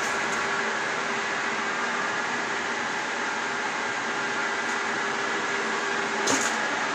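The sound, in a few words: Caballeria TR 40 capstan lathe running quietly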